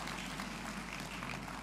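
Audience applause for ground staff at a university graduation ceremony, a steady wash of distant clapping from a large crowd, moderately faint and continuous.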